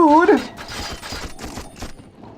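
Rapid automatic gunfire from enemy machine gunners in the shooter You Are Empty, a dense burst of repeated shots after a brief rising tone, continuing at moderate loudness across the whole moment.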